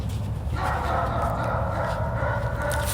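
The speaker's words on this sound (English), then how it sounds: "Hear the dogs barking." Dogs bark and yip somewhere off in the woods, faint and distant over a low steady background rumble, a short scattered run of barks with no voices.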